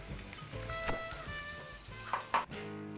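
Pork pancetta fries in a frying pan with a soft, close sizzle and a few crackling spits, set against a faint tonal hum.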